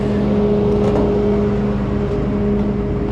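A truck nudges a GMC Yukon XL forward with its bed, giving a loud, steady engine drone and whir that holds close and continuous throughout with no talk.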